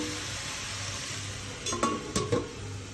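Mushrooms stir-fried in a pan for mushroom chilli dry, with a steady low sizzle and a few louder scraping, clinking stirs near the end, no voices.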